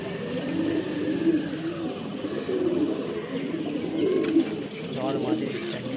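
Pigeons coo softly in repeated low, rolling calls, steady across the clip over a faint background hum.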